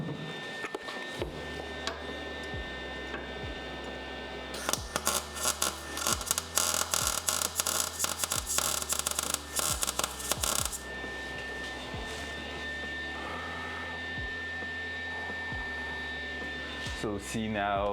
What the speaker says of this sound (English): So just doing that, this is a quick weld.